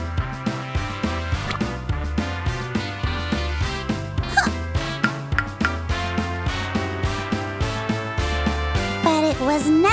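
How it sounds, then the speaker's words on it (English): A cartoon dog in a children's animated series about a little princess gives short yappy barks over bright, rhythmic background music with steady plucked beats. "And even her dog."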